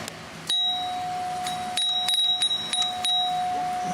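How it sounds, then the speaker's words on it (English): An old Friedland Type 4 doorbell rings out a ding-dong chime, with bright metallic tones struck several times and ringing on over a faint background hiss. "Nothing beats these old doorbells, so I love the sound of this."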